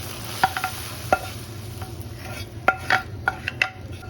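Browned onion, garlic and chili tempering is stirred into a pot of lentil dal with raw mango. A close sizzle runs under repeated sharp spoon clinks and scrapes against the pot.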